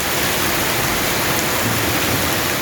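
Heavy rain pours down in Abbottabad, a dense, loud, unbroken roar of water close by, steady throughout with no voices.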